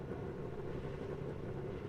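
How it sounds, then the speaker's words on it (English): A field of Formula 3 cars sits idling on the Zandvoort grid in a sim racing game, producing an even, unbroken low engine rumble with no speech over it. "Love hearing these cars sitting idle."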